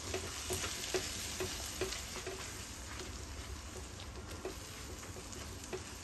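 Onion and spice paste frying in a pan for a king prawn dupiaza curry, a steady close sizzle with repeated soft scraping stir strokes throughout and no talking.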